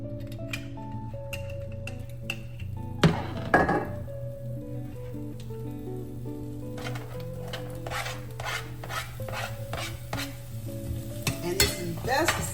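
Onions sauté in a pan for chicken calabacitas, sizzling steadily under a low kitchen hum, with bursts of stirring and scraping, a louder clatter around three seconds and more utensil scrapes toward the end.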